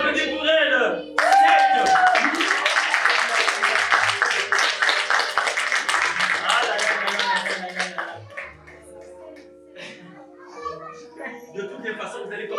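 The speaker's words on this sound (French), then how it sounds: "On a applaudi pour elle." Children clap at a show after a dance, a loud burst of many hands that fades, with young voices mixing in and some talk carrying on as the applause thins out.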